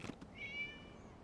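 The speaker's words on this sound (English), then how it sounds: "It was just a cat." A single short cat meow in a video game, clear and fairly near, with a faint tonal rise and no talking over it.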